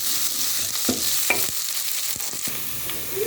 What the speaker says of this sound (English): Let it fry a bit.